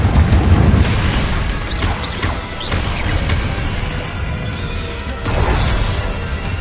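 Confringo blasting spells erupt in the video game Hogwarts Legacy, a series of loud booms and crashes rolling over a continuous roar of battle noise, with a fresh surge toward the end.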